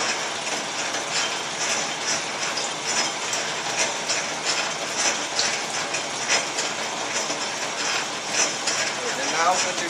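A metal lathe running while cutting threads, with oil applied to the part: a steady close mechanical whir and rattle with faint rhythmic ticking throughout, and a voice talking at times over it.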